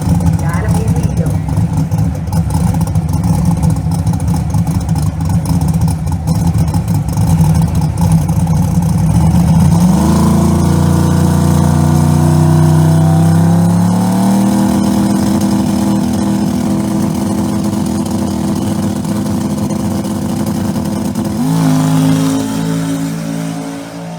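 Pro Mod drag race cars roar down the strip at a Northeast Outlaw ProMod eliminations event, loud sustained engine blare with rising pitch as they accelerate, under a commentator's talk.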